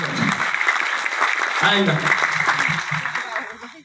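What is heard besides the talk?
applause from the audience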